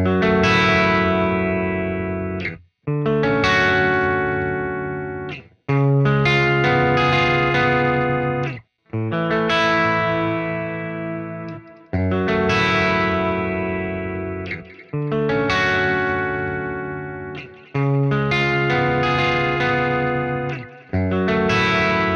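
Electric guitar run through a WAVES Manny Marroquin Delay plugin, playing a simple repeated phrase in bursts of about three seconds with brief gaps, driven and chorused, with echoing repeats and reverb tails filling the space.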